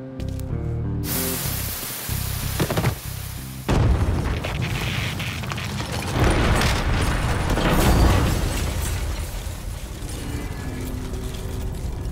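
A dynamite blast in Mafia III, a sudden heavy boom that gives way to a long, loud rumbling roar and hiss of debris spraying and settling.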